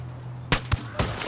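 Gunfire in the tactical shooter Ghost Recon Wildlands, a few sharp loud shots breaking out after a quiet hum, spaced irregularly and close.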